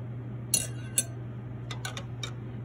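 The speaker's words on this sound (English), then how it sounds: "You're going to give that a quick stir just to incorporate all of your ingredients" A utensil clinking against a bowl while stirring sugar, salt and oil together, a few bright metallic taps spread over a couple of seconds above a steady low hum.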